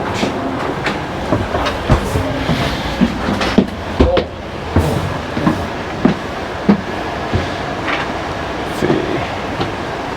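A passenger train between Seattle and Portland rolls along steadily, wheels clacking rhythmically over rail joints with carriage rattles and occasional sharper knocks, heard from on board.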